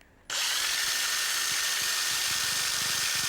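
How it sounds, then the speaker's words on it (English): Power drill spinning a mounted wooden piece for a plate rack starts up abruptly and runs at a steady high whine, loud and close, continuing without pause. "What you could do is actually mount this baby in your drill."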